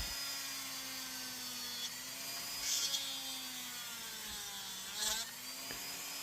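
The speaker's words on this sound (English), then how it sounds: "You gotta drill a hole through that dowel." A drill bores a hole through a wooden dowel for a corn cob popper, a steady whining hum that shifts pitch as the bit works, with brief louder surges near the middle and end.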